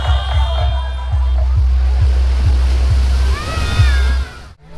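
Sea waves at New Digha beach make a loud, continuous roar, heavy with wind rumble and low thumping buffets, close and steady until the sound cuts off abruptly at the end.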